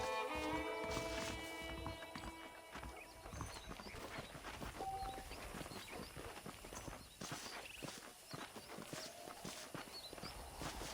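Horse hooves clip-clopping in Red Dead Redemption, a steady walking rhythm of hoof falls on the ground with faint tack and movement sounds, quiet and fairly close, with no talking over it.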